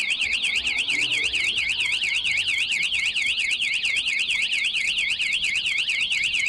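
Two anti-theft alarms on a Paselec PX5 electric scooter wail together in a loud, rapid, warbling siren that keeps cycling steadily, close and alone.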